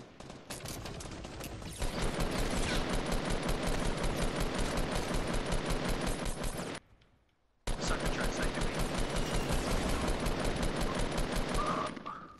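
Gunfire in Fortnite Battle Royale: long, dense bursts of rapid automatic fire, loud and continuous, broken by a brief pause of near-silence before the shooting resumes.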